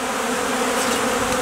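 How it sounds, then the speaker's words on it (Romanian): Honeybees fly out of the hive in February, filling the air with a dense, steady buzzing swarm hum that is close and loud with no voices. "Albinele încă ies foarte bine la zbor."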